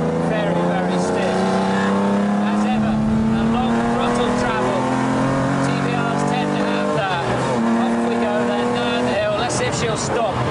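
A supercar laps a race track, its engine revving hard with rising and falling pitch through gears and throttle blips, tyres working underneath, loud and close while someone talks over it throughout.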